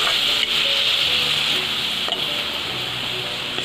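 Dried fish hisses and sizzles steadily in a hot pan as a little water goes in to simmer it, a close, continuous bright crackle with no talking.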